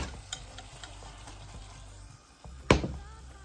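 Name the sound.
stuffed baked potatoes sizzling in a pan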